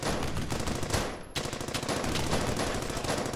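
Heavy gunfire in the wartime shooter Brothers In Arms: Hell's Highway: a dense, continuous automatic-weapon roar that drops out briefly near the middle, then resumes just as thick and loud for the rest of the stretch.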